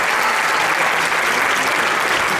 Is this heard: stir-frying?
no